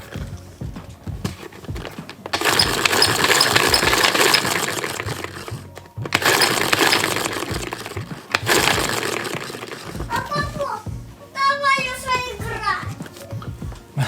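A children's toy washing machine spins its drum with a loud, steady whirring rattle in two long bursts, broken by short pauses, while children's voices chatter nearby and take over near the end.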